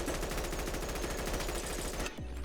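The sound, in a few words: M4 rifle gunfire in a Bonelab mod, from a video game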